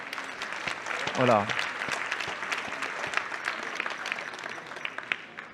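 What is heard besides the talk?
audience applause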